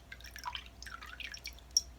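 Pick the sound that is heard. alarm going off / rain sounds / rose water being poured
rose water being poured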